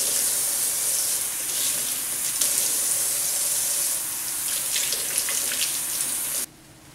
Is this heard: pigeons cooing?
no